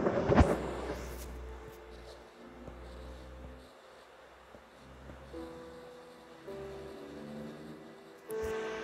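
Thunder after lightning in the video game Minecraft, heard as a deep rumbling roll that fades over several seconds, fairly quiet, with a sharper crack near the start.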